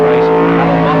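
1973 Improved Production touring cars, a Ford Falcon GTHO and a Trans Am Mustang, roar by at Warwick Farm racing circuit, a loud, sustained engine howl with steady pitch held close and continuous.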